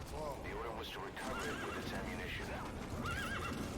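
In the video game Metal Gear Solid V, the horse D-Horse whinnies repeatedly amid hoof clatter and dense action noise, with talking over the top.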